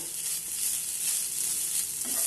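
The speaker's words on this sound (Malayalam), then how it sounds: "ഒരു 1/2 ടീസ്പൂൺ ജീരകം ഇട്ട് കൊടുക്കണം." Cumin seeds sizzle in hot oil with a steady, bright crackling hiss, close and moderately quiet, continuous for a couple of seconds with no voices.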